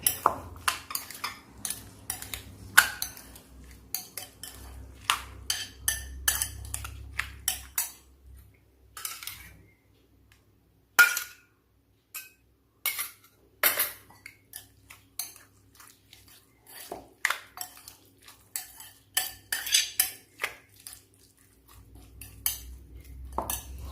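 A spoon clinks and scrapes in a bowl as yogurt is mixed into a tomato and vinegar salad, with irregular clinking bursts, a quiet pause partway through, then more stirring taps.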